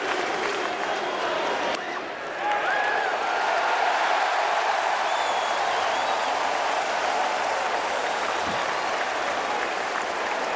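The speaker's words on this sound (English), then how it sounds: "A huge crowd on hand tonight." A sellout crowd at a Rockies vs Brewers baseball game in 2008 applauds and cheers steadily, a dense, continuous wash of clapping and crowd noise that holds throughout.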